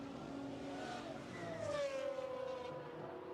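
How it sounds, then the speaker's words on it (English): A Lamborghini with a 6.5-litre V12 engine runs on a racing circuit in a GT1 sports club event, its engine note rising in pitch as it accelerates, heard at a distance under a constant background roar. "the Lamborghini, surprisingly for a Lamborghini, doesn't necessarily sound as spectacular as the Pagani"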